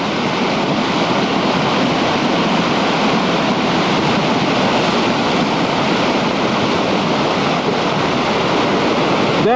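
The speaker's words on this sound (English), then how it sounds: "this is the Ventura River levee by Casita Springs, just below the confluence of San Antonio Creek." The Ventura River in flood near the levee at Casita Springs, below the San Antonio Creek confluence, roars as a dense, continuous rush of water with wind buffeting the microphone.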